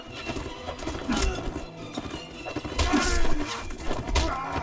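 Horse hooves clip-clop at a gallop in the medieval combat video game Mount & Blade: Warband, with a whinny among the steady close, loud hoofbeats amid battle clatter.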